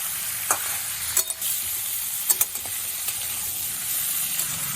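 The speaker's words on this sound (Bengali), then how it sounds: "আলু, ডাঁটা, ঝিঙে সব একসাথে করে ভালো করে ভেজে নেব" Ridge gourd pieces, potato and vegetable stems fry and sizzle in a pan with a steady hiss, broken by a few sharp clinks and scrapes of stirring; no talking.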